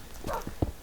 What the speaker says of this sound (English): It's barking at the sheep.